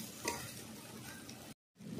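Turmeric, salt and spices sizzle softly in a pan as they are stirred and sautéed, a steady close frying hiss with faint scraping that stops abruptly for a moment near the end, then resumes.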